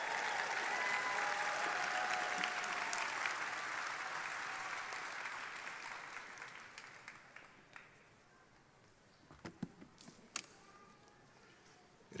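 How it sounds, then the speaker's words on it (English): Audience applause for certificate recipients at a medical college commencement ceremony, a loud sustained roar of clapping that fades out over several seconds, leaving scattered claps and small knocks in a quieter hall. "Please give these certificates recipients a round of applause."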